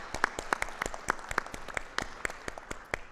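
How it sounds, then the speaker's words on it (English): Sparse applause from a small room audience at a community college symposium, a handful of distinct nearby claps over a thin patter of others, irregular and fairly quiet. "A round of applause, please."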